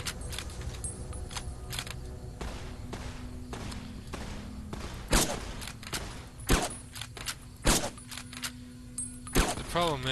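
Several sharp sniper rifle shots ring out in Fallout: New Vegas, spaced irregularly over a low ambient game background, each report a loud broadband crack with short decay.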